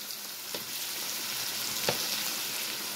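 Butter melting in a pan for a grouper fillet stew, giving a steady, even sizzle with a couple of faint clicks from the pan, with no one speaking.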